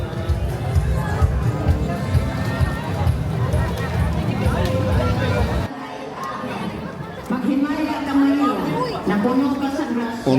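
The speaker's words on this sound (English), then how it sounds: "The crowds are increasing on Legazpi Street." Dense crowd babble from Sinulog festival devotees packing Legazpi Street, a steady murmur of many voices throughout, thinning briefly midway before picking back up with a few closer voices.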